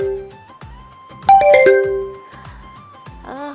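A phone rings with a bright melodic ringtone, a sequence of clear electronic tones over a light rhythmic backing, moderately loud and heard without talking.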